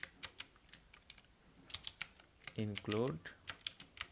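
Computer keys tap in an irregular, fairly steady patter as C code is typed, close and light, with someone speaking briefly over the clicks.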